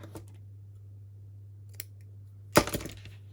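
Scissors snip through a strip of lace in one crisp close cut, preceded by a couple of faint light clicks against a steady low hum.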